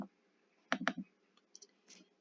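Sharp computer key clicks while entering a spreadsheet formula: a quick cluster of two or three close, crisp taps followed by a couple of fainter clicks, in a quiet room with no talking.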